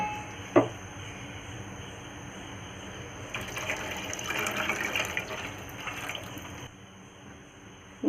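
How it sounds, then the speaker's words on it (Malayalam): First coconut milk is poured into a pot of simmering pineapple payasam, a soft continuous liquid pour and splash that rises in the middle and then stops, with a faint clink near the start. "ഇനി നമുക്ക് ഒന്നാം പാലൊന്ന് ചേർത്ത് കൊടുക്കാം."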